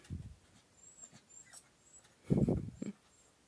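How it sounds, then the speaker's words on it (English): Small dog whining to be picked up, a few short soft whimpers and one louder whine near the end, close by in a quiet room. "If you heard a whine, that's one of my dogs. She's whining at me."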